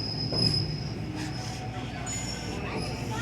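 A train rumbles steadily along the rails through a rail yard in Port Stanley with a low continuous roar and faint metallic ringing overhead, fairly close and sustained throughout.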